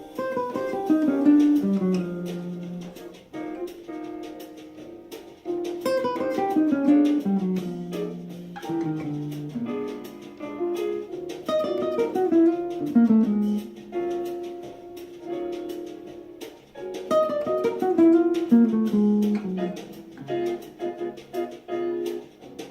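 Jazz guitar lick played with some notes left out, a clean single-note line of flowing phrases and short pauses, moderately soft and heard alone over about twenty seconds.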